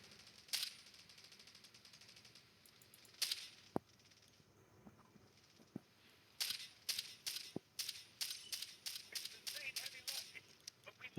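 Video-game gunfire from Delta Force heard on earbuds: isolated sharp cracks, then a rapid string of crisp shots near the end, each short and dry against a quiet background.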